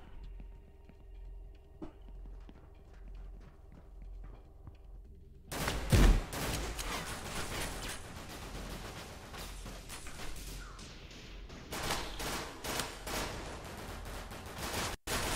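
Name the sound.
gunfire in Severed Steel video game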